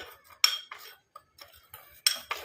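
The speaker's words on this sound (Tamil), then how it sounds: "அந்த மஞ்சள் பொடியை இதில் வந்து நம்ம ஆட் பண்ணிக்கலாம். ஆட் பண்ணிட்டு நம்ம நல்லா கலந்து விட்டுடலாம்." A spoon stirs turmeric powder into a mixture in a bowl, giving several sharp metallic scrapes and clinks spaced irregularly, close and fairly quiet, with no talking.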